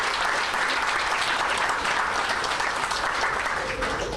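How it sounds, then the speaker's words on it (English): Sustained applause for construction workers building a bridge home, a dense, steady wash of clapping from a crowd that holds at even loudness throughout without a break. "they deserve a round of applause for what they've done"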